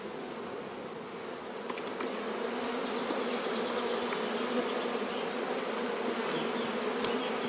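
Honeybees buzzing densely around an opened beehive frame, a steady close swarm hum that swells slightly after the first couple of seconds and stays even, with no talking.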